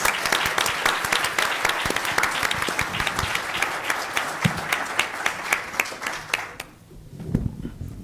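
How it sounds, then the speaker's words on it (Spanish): An audience at an electoral justice panel bursts into strong, sustained applause for the speakers, a dense crackle of many hands that carries on for several seconds before thinning out near the end. "Un fuerte aplauso para nuestros ponentes"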